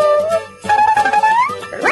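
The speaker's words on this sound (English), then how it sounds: "it'll bark at me." Electronic toy robot patrol dog giving short synthetic barks and yips, loud and close, in a brief burst of a few calls with no talking.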